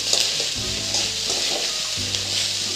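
Garlic fried rice stirred in a hot pan: a loud, continuous sizzle and hiss with repeated stirring scrapes, close up and with no talking.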